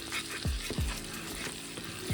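A lightly simmering sauce with salt and garlic bubbles softly over very low heat while it is stirred, giving a few low plopping bubbles under a gentle, steady sizzle, close and fairly quiet.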